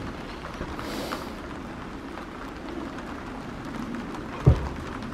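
Rain falls steadily outdoors by an animal enclosure, a soft constant patter with one brief thump near the end.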